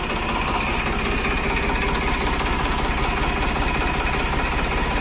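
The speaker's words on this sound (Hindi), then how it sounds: "तो ट्रैक्टर को करते हैं स्टार्ट" Tractor engine idling steadily nearby, a loud, dense low rumble with fine rapid knocking pulses, constant throughout with no change in pace and no talk.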